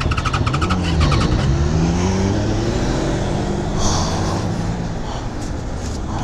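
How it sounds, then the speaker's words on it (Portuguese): A Yamaha XJ6 motorcycle engine with a straight-pipe exhaust runs with a steady low rumble and rising rev tones, then the sound thins out as it dies down toward the end, stalling. "É, moto parou"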